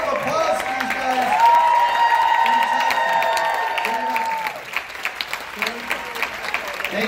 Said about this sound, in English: Ladies and gentlemen, please give a round of applause for these guys.